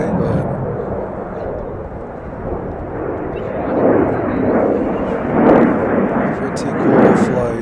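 A departing airliner climbs out of Chicago O'Hare and passes overhead with a loud, rumbling jet roar that swells in waves toward the end, with voices heard over it.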